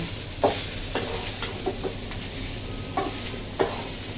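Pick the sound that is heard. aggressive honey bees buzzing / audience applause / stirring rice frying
stirring rice frying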